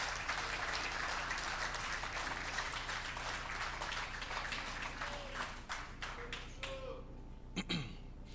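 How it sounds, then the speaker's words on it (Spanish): A church congregation applauds during a sermon, broad sustained clapping that thins out toward the end, leaving a few scattered claps and a low steady hum underneath. "¿Por qué no le das un aplauso al victorioso?"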